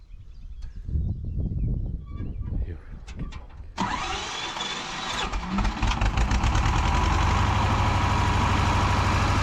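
A tractor engine sputters and then catches, settling into a steady, loud mid-pitched idle that runs on to the end, with voices faintly heard early on.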